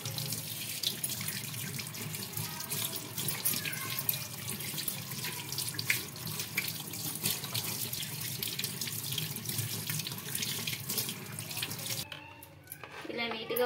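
Tap water runs steadily into a sink while small aloe vera pieces are rinsed under it, a close, continuous splashing rush that stops abruptly near the end, with a voice speaking over it.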